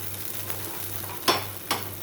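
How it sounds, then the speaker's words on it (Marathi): Malpua fries in oil in a pan with a steady low sizzle and two brief louder crackles. "आता आपण परत ह्याच्या चारी बाजूला आपण ऑइल सोडून घेऊया. त्याची खालची बाजू पण व्यवस्थित फ्राय होईल."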